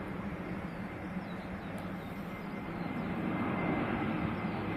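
A Lufthansa airliner on approach to London Heathrow Airport rumbles overhead as a broad, steady engine roar that swells slightly louder toward the end, heard outdoors at moderate distance.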